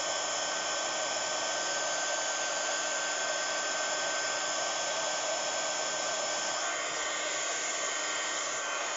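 A heat gun used for hot embossing runs without pause, a steady, loud, close whooshing blower hiss with a faint constant whine.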